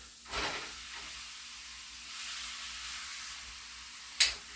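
Beef browning in a hot pan, a steady soft sizzle and hiss, close and quiet, broken by a scrape or stir near the start and a sharp clack near the end.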